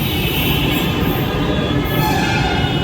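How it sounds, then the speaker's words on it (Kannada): A Bangalore metro train pulls into the station with a loud, steady rumble and a faint high squeal of wheels throughout. "ಮೆಟ್ರೋ ಬಂತು ನೋಡ್ರಿ ಇಲ್ಲಿಗ, ನಮ್ಮದು ಬಂತು ಮೆಟ್ರೋ."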